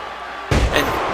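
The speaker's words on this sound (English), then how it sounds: "And Peter just knocks him back" A wrestler slammed down onto the ring mat at a live wrestling show, one loud heavy thud with a short follow-up rumble over steady crowd noise.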